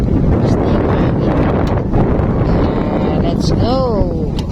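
Strong wind buffeting a microphone outdoors during an airgun fishing trip, a loud continuous roar with rustling gusts; a voice briefly sounds near the end.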